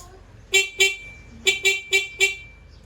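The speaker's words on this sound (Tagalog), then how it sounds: "Loud horn." A stock car horn blasts in short bursts: two quick honks, then four more in a rapid run, loud and close with nothing else around.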